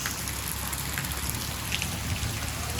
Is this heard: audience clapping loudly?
no